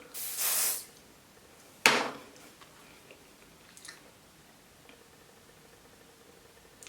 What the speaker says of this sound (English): See, just a little spritz